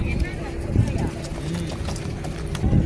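A horse's hooves clip-clop close by on a hard surface in uneven beats while people talk over them.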